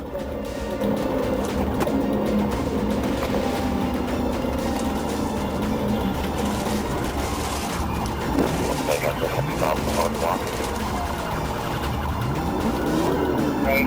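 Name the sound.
car engine revving during police pursuit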